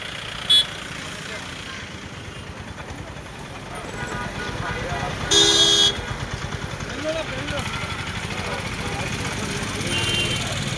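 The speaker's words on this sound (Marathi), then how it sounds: "हे पहा, अशी अवजड वाहने यांना कसरत करावी लागते." A market-day traffic jam in Mandavgan Pharata, with heavy vehicles squeezing through. Engines rumble and motorcycles drone steadily close by, and short horn toots cut through once early and again in a louder burst midway.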